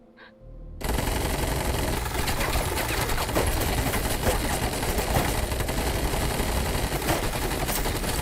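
Heavy, continuous automatic gunfire from the animated show Invincible erupts after a brief quiet start and rattles on loud and dense for the rest of the clip, with no talking.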